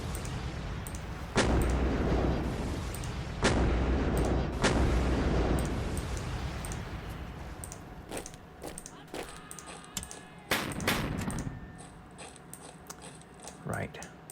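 Naval shelling of an enemy cruiser in a strategy video game, with several loud booming shots near the start, then lighter mechanical clicks and smaller impacts under a steady background hum.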